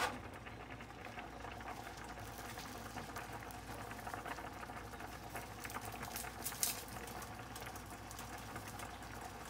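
A pot of water cooking pasta bubbles at a steady rolling boil, a continuous soft, close churning patter with no talking.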